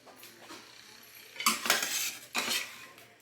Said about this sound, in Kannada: ಈಗ ಕುಕ್ಕರ್ ಓಪನ್ ಮಾಡ್ತಿದ್ದೀನಿ